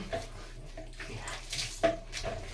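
Water splashes and sloshes steadily while a pet dog is bathed and scrubbed, with a brief sharper splash partway through and no voices.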